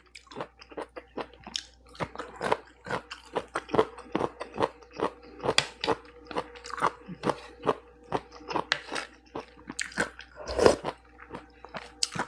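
Someone eats spicy pounded papaya salad with stink beans, giving close, rhythmic wet crunches and chewing that repeat steadily throughout.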